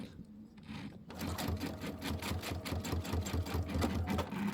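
A sewing machine stitches a Kimberbell Let It Snow pillow top with miracle thread, starting with the needle down and auto lift on; after a quiet second, a steady, close, rapid mechanical whir runs continuously to the end.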